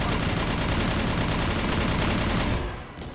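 Sustained automatic gunfire from a firefight in Mass Effect Legendary Edition 2, a dense unbroken fusillade of rapid shots that fills the scene loudly for over two seconds before cutting off abruptly into near quiet.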